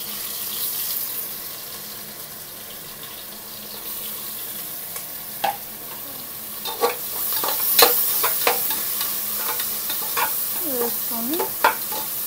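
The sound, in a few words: frying biryani masala and onions in a pan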